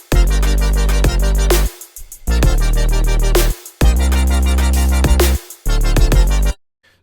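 A future bass drop plays in bursts: punchy, heavy bass and dense chopped synth chords pulse in rhythmic phrases separated by short gaps, loud and upfront with no voices.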